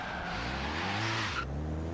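Drift-spec Mini in Forza, driven with a Logitech G920 wheel, revving hard as its tires spin and squeal, a steady loud engine drone with a rising tire screech that cuts off near the end.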